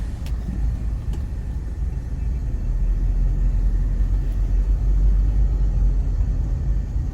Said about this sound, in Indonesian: Peredaman mobil ini biasa saja, baik suara luar dan suara mesin masih terdengar khas Honda.